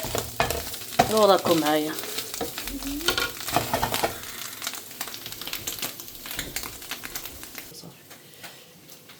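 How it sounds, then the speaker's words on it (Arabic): Potatoes fry in hot oil with a steady sizzle and light crackle, while someone talks over the early part and stirring clatter breaks through. "البطاطا راها تحمر"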